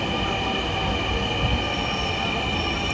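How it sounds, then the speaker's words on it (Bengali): Dhaka Metro Rail train heading for Uttara pulls into an elevated station, its wheels squealing faintly over a continuous, close rolling rumble that stays steady for a few seconds with no voices. "কত সুন্দর ট্রেন, মেট্রো রেল।"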